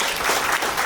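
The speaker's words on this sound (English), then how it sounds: "Please give an applause to Chloe Breyer." Dense audience applause at an interfaith institute anniversary dinner, a bright crowd-wide wash of clapping that stays loud and continuous for the whole short moment.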